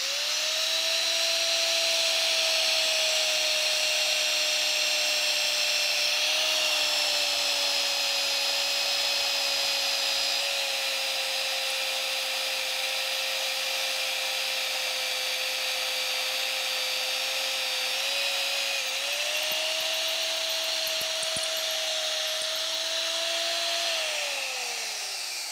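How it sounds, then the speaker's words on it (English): A power drill with a 17/64 bit bores holes in metal on a Wilton 800S 8-inch bullet machinist vise, a steady whining motor tone that dips slightly under load, close and continuous with no talking. "I got a 17/64 drill bit in here, which is what you need for 5/8/11. And we're going to drill this out"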